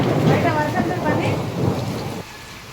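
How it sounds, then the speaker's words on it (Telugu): Steady heavy rain pours outside with rumbling thunder rolling through, a dense wash of noise that drops slightly near the end; no voices. "బయట వర్షం పని"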